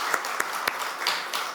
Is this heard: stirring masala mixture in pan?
no